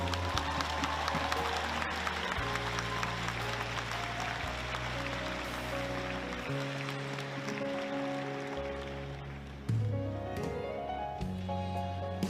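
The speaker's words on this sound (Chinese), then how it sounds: "一个热情的掌声鼓励" An audience applauds at a P. League basketball fan event, with steady, crowd-wide clapping that runs throughout beneath loud background music.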